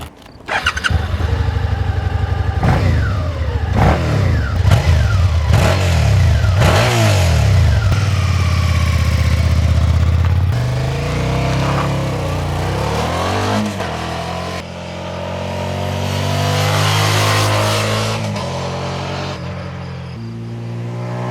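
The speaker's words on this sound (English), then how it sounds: "It has a 650 cubic centimeter V2 engine that produces 72 brake" A Suzuki Gladius 650cc V2 motorcycle engine revs repeatedly, loud and close, rising and falling in sharp bursts, then settling into a steadier higher drone with a few more swells, and no talking.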